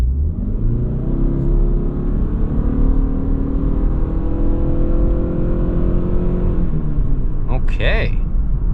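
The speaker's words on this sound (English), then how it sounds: "this Ford Escape can accelerate" A Ford Escape Titanium PHEV accelerates hard, its drivetrain giving a steady, loud, rising hum and rumble heard from inside the cabin that eases off near the end, when a short burst of talk breaks in.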